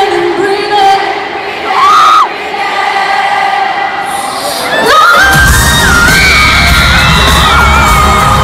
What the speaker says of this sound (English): the screaming fan who probably lost their voice after this show